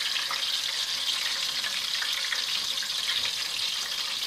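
Apple slices fry in hot fat with a dense, steady sizzle and fine crackle, close up and continuous, with no voices.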